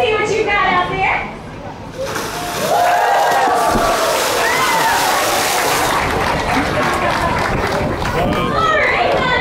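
Delilah, a 39-year-old dolphin in a show pool, splashes through the water while a crowd cheers and chatters, the broad splashing and crowd noise loud and continuous after a brief quieter moment.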